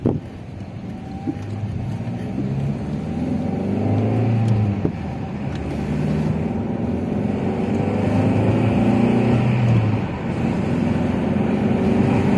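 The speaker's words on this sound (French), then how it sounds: "on va essayer de faire ronronner un petit peu le 2 litres 2" A car's 2.2-litre engine revving as it accelerates, a loud continuous rumbling drone with rising and falling pitch and buffeting wind noise, running alone for about twelve seconds.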